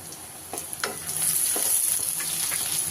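Chopped onions turning golden with green chilies fry in a pan for a ridge gourd curry, a bright steady sizzle with a few stirring scrapes and clinks, close and alone.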